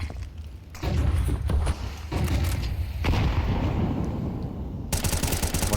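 Gunfire in a professional Counter-Strike esports match at a StarLadder Major, dense rapid bursts of shots and thumps over a continuous game soundscape, loud and fairly close.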